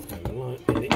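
Potato quarters dropped into a cooking pot, a few close knocking clunks against metal with some clatter, mixed with someone talking.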